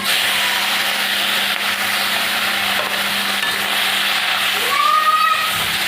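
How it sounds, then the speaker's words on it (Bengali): Morola fish coated in salt and turmeric frying in oil in a wok, a steady broad hiss running throughout with light stirring rubs, close and continuous with no talking. "মাছগুলো ভেজে নেবো।"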